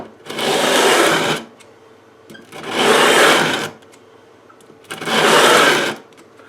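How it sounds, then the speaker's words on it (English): Three long, even passes of 80 grit sandpaper along a Stratocaster guitar neck, each a loud rasping swipe of about a second and a half, separated by brief quiet pauses. "Let's give it a couple more swipes. Now that's 80 grit sandpaper."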